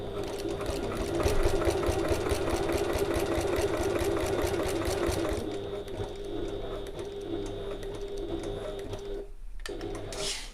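A sewing machine stitches a passport folio in a fast, steady run of close mechanical needle strokes for about five seconds, then the motor settles into a softer hum and clicks.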